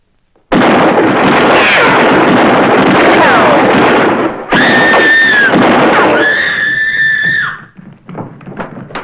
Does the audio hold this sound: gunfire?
yes